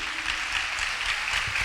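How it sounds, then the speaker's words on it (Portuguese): A church congregation applauds, a short, even patter of many hands clapping at a moderate distance with no talk over it. "Mais uma vez, aplauso ao Senhor Jesus por isso."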